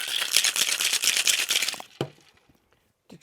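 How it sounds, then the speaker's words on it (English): A metal cocktail tin packed with ice is shaken hard for a rum and Chartreuse drink with lemon juice, a loud rapid rattling of ice against tin that stops abruptly, followed by a sharp clack and a few small knocks. "Ice the tin and shake."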